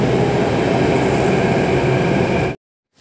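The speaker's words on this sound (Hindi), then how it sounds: "और अब मैंने यहाँ कश्मीरी गेट के लिए मेट्रो पकड़ ली है।" A Delhi metro train heading to Kashmiri Gate, heard from inside as a loud, steady rumble and rail hiss that cuts off abruptly near the end.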